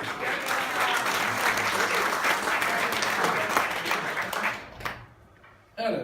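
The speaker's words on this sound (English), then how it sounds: "Now, round of applause there." Audience applause for a volunteer at a live magic performance, steady, dense clapping from a crowd that fades out toward the end before a brief final burst.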